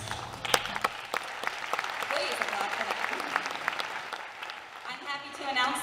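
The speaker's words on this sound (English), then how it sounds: "Please applaud for that." An audience at a high school senior honors night applauds, a sustained wash of many hands clapping at moderate distance, with sharper individual claps standing out and a voice coming in near the end.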